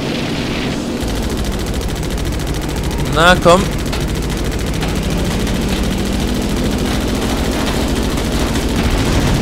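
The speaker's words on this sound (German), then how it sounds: "jetzt kriegen wir hier, glaube ich, gerade ein paar Schuss ab" Steady rattling machine-gun fire from World War II aircraft in the flight combat game Damage Inc. Pacific Squadron WWII runs throughout over engine drone, with someone briefly speaking.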